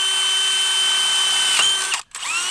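A power drill whines at a steady high pitch close up, briefly dips in speed, cuts out for a moment, then spins back up.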